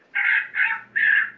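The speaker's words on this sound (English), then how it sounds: "Bleeding chicken, it's just something different." A bleeding chicken distress call played from a Johnny Stewart Executioner electronic predator caller: three harsh, raspy squawks in quick succession, loud and close, with nothing else heard.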